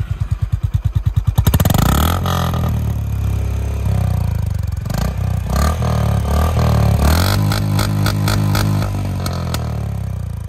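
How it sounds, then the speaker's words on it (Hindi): A Honda CB350 motorcycle exhaust fires up with rapid pulsing, then revs loudly in repeated bursts and blips with some clatter, close by and with no talking. "भाई अपना इंजन स्टार्ट करें और थोड़ा रैप करें।"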